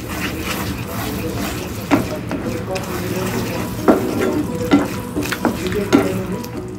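Homemade Domino's-style tomato pizza sauce stirred with a spoon in a pan, soft wet sloshing and occasional scraping clinks against the pan, with faint talking.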